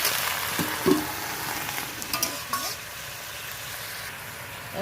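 Mixed vegetables with pui shak sauté in a pan as the juices cook down, a steady low sizzle with a few stirring clinks and scrapes, close, no speech.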